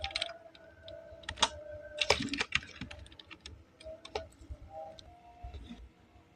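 Keys on a computer keyboard are tapped in an irregular run of light clicks, some louder clusters, close and fairly quiet with no voices.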